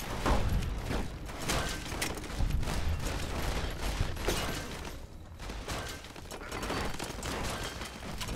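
Fallout New Vegas firefight: a dense, continuous roar of distant gunfire and rattling shots, loud and unbroken for the whole stretch with no talk.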